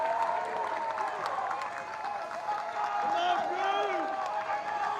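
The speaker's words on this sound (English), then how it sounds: "And you can hear the crowd. It is a big time crowd here tonight." Big night-game crowd at a high school playoff baseball game, a steady wash of cheering and applause with scattered shouts, moderately loud and continuous throughout.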